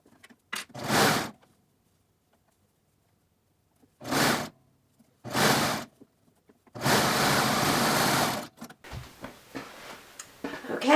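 A sewing machine stitches a stretched cuff onto a hoodie sleeve in short close bursts of whirring, separated by quiet pauses, ending in a longer run followed by softer handling noises.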